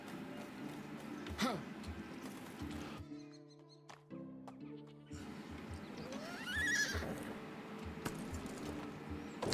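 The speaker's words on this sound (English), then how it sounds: "Oh, there's our baby horse." A foal whinnies loudly in the Medieval Dynasty game, with a rising neigh standing out over the game's ambient background and clopping hoof steps. A short gap of near quiet with a low musical tone sits in the middle.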